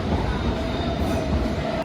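A London Underground train rumbles steadily nearby, with a continuous low roar of rolling wheels and a faint metallic whine that drops off at the end.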